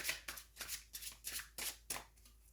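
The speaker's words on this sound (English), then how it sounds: "We're pulling 3 quick cards, whatever message comes through on those 3 cards." Tarot cards being shuffled by hand at close range, a rhythmic series of crisp riffling and flicking bursts about every third of a second, with no voice over them.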